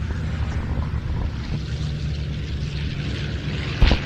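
Two piston-engined naval fighters, a Grumman Bearcat and a Corsair, take off together at an airshow, giving a steady, broad engine drone that holds throughout with a brief louder surge near the end.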